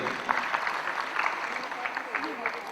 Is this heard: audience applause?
yes